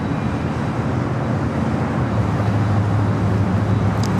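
A Boeing 787-9 Dreamliner airliner in yellow livery passes overhead near San Diego airport, a steady, broad jet roar that holds loud for the whole stretch without a break.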